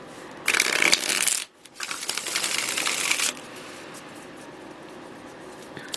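Tarot cards riffle-shuffled at close range in two quick, crisp bursts of fluttering clicks, then a quiet room.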